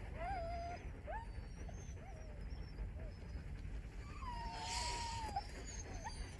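Sled dogs whimper and yip in the Antarctic snow, several thin, rising whines scattered through the clip over a steady windy rumble, while people speak nearby.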